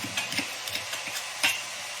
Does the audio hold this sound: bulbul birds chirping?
no